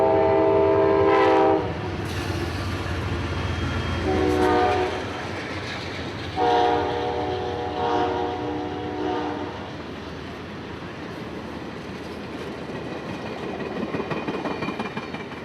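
Amtrak train 97 rumbles past nearby at Folkston, Georgia, with loud horn blasts sounding several times over the steady roar of wheels on the rails.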